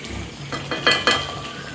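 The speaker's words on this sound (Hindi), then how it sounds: "इसको अच्छे तरीके से मिक्स कर देंगे" Raw mango and jaggery chutney is stirred in a pot, with a few soft scraping and clacking strokes of a spoon against metal over a faint sizzle, close by and fairly quiet.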